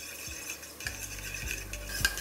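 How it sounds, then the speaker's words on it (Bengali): A spoon stirs turmeric and Kashmiri chilli powder into a little water for a pressure-cooker mutton curry, making faint scraping swirls with a few light clinks against the bowl. "এটাকে একবার ভালো করে এইভাবে মিশিয়ে নিন।"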